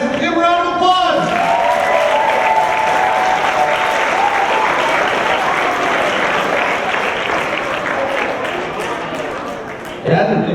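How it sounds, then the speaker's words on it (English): A comedy show audience breaks into sustained applause with some cheering, loud and steady for most of the stretch before tapering off near the end, with brief talk at the start. "Give a round of applause."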